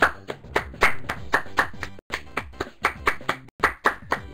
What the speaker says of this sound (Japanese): はい、みんなでパチパチパチパチ、みんなパチパチ、みんなパチパチ